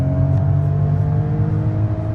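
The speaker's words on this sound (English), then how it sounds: "Full send, full throttle. That's a way to break in a motor." A Fiat Panda hybrid's three-cylinder engine, paired with a manual gearbox, pulls at full throttle in Italy, a loud, steady droning growl with strong low harmonics that holds evenly throughout without any talk.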